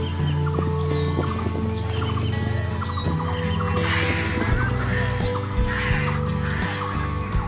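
Many birds call at once in the Kulik bird sanctuary, a dense mix of clucks, honks and chatter, some nearby and others farther off, with no talking.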